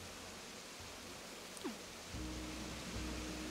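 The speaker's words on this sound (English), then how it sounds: "listen to the waterfalls" A waterfall in the Animal Crossing video game gives off a soft, steady rushing hiss, quiet and continuous, with a low musical hum joining partway through and a faint sliding chime.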